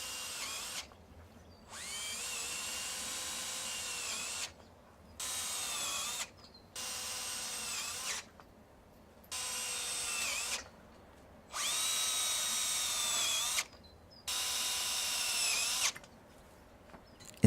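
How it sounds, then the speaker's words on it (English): A power drill drives self-drilling screws into a steel greenhouse frame in repeated loud whining bursts of one to three seconds, separated by short quiet pauses. "Secure all joins and P-clips with a self-drill screw."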